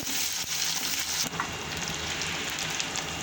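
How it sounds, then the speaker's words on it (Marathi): Chopped onions sauté in a hot pan for a dry capsicum and potato dish, a continuous close sizzle with occasional stirring scrapes. "कांदे आपल्याला थोडेसेच परतून द्यायचे जास्त परतून द्यायचे नाही एक दोन मिनटं परतून द्यायचे"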